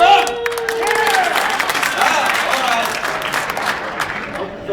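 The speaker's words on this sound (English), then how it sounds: "Don't clap too soon." Audience at a health care town hall breaking into applause and cheers, a dense, sustained wash of clapping that fades slightly toward the end, with voices mixed in.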